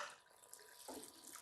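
Water pours into a pot of beef kofta curry on the stove, a steady splashing stream running for just over a second, close and fairly loud with a brief heavier gush near the end.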